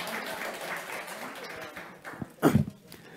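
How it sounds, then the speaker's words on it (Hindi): Students in a classroom lecture give a round of applause, a steady moderate patter that fades, followed by a couple of louder knocks and a thump at the end. "एक बार जोरदार तालियां जो है इनके लिए हो जाए"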